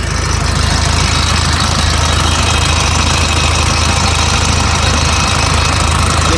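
A 2014 Hitachi ZX250-5 LC excavator engine idles steadily and loudly close by, a continuous low diesel rumble with a faint knocking texture that holds for the whole stretch, no talk over it.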